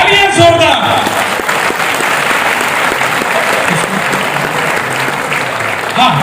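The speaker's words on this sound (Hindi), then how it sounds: "लेकिन हमारे यहाँ पर भक्त आए हैं, तालियां जोरदार" Enthusiastic audience applause at a felicitation ceremony honouring film cast members, steady and loud throughout, with a voice speaking briefly at the start over the clapping.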